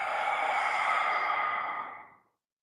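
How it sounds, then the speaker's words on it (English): A long, steady exhalation during a White Crane qigong breathing exercise, soft and close, with a breathy hiss that fades out after about two seconds. "Breathing in and out."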